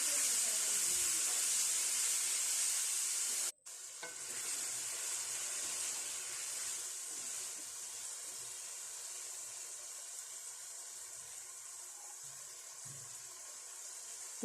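Diced potatoes and bell peppers frying in a pan give off a steady bright sizzle with faint stirring, briefly interrupted once, then continuing as a softer, even hiss.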